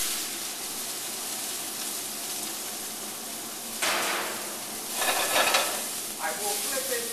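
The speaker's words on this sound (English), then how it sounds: "I will put this in the pan that's smoking." Food hits a smoking-hot pan and sears with a bright crackling sizzle that flares at intervals over a steady background hiss, with stirring noises between, close by and no talk.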